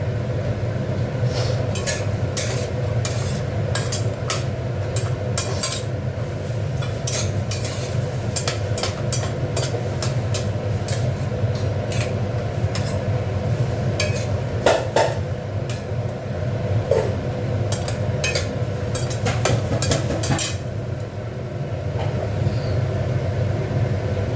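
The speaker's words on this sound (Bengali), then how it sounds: "এখানে একটু বড়ি দিচ্ছি, তার বড়িটা একটু ভেজে নেব।" Bori, lentil dumplings, fry in hot oil in a kadai, with a steady dense sizzle throughout and occasional spoon scrapes and clinks against the pan, close and continuous.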